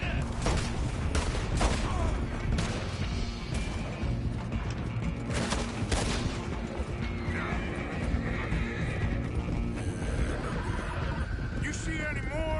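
Horses in Red Dead Redemption 2 neigh and whinny loudly amid galloping hoof clip-clops and scattered gunfire, with game characters talking over the busy, close action.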